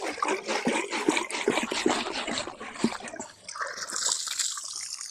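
Water from a garden hose flushing the rusty, badly corroded cooling system of a 1971 Toyota Celica TA22 barn find, a continuous splashing gush and trickle close by, shifting to a thinner hiss toward the end.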